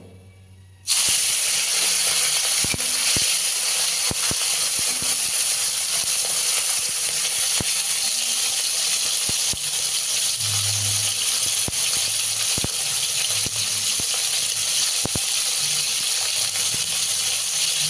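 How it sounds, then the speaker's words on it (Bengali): Chanda fish slide into hot mustard oil in a wok, triggering a sudden loud sizzle that continues as a steady, intense hiss with occasional faint ticks and pops throughout. "মাছটা সর্ষের তেলে রান্না করব, আর কড়াইতে তেল দিয়েছি, তেলটা গরম হয়ে গেছে। এবার মাছগুলো ভেজে নেব"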